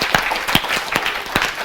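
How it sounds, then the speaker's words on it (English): A conference audience gives a round of applause, dense broadband clapping with a few sharper individual claps standing out, loud and close, with no talk over it. "like a round of applause to Aris for getting this all together."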